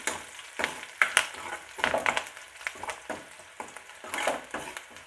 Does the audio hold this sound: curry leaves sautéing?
yes